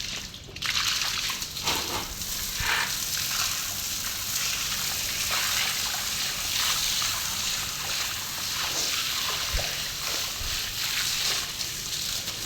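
Water trickles and splashes steadily outdoors, a continuous light babbling with occasional small sloshes.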